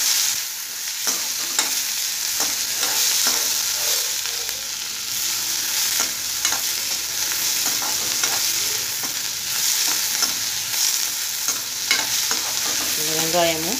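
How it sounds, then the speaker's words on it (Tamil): Onions and green chilies sautéing in a pan for a bean stir-fry, a steady close sizzle broken by repeated scraping stirs of the spoon, with a clink near the end and no talk. "வெங்காயமும் பச்சை மிளகாவும் நல்லா வதங்கணும்."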